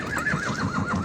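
A horse gives a loud, close, wavering neigh at a livestock market in Sokuluk, standing alone with no talk.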